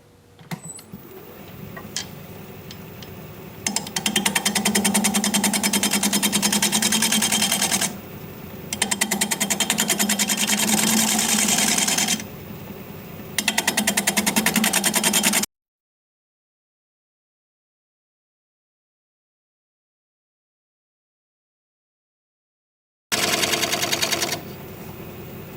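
A wood lathe at 600 RPM turns a root ball while a 3/8 inch bowl gouge cuts a tenon, a loud rough scraping drone in several long runs broken by short pauses and one long silent gap.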